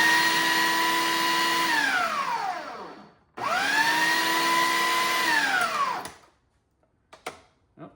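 A blender pulsing pineapple mango salsa with onion, peppers and cilantro: two long motor runs, each revving up and winding down, followed by a few brief clicks and knocks, close and loud, no talking.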